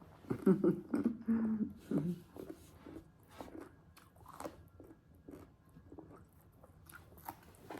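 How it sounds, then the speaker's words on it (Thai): A crunchy sour mango is bitten and chewed up close, with several crisp bites at the start followed by quieter, irregular chewing and soft mouth sounds. "กัดกินทั้งลูกเลยกรอบกรอบ"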